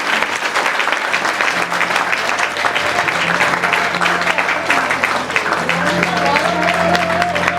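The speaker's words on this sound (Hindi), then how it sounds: "तालियां रुकनी नहीं चाहिए।" Sustained audience applause at a Hindu Spiritual and Service Foundation Haryana nature-worship ceremony, steady and loud throughout, with a faint amplified voice or tone running underneath.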